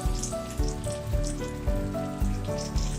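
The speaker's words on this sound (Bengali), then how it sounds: "উল্টে পাল্টে ভাজতে হবে।" Steady oil sizzle from prawn-stuffed pointed gourd frying in a pan, continuous and close, with tonal music playing over it throughout.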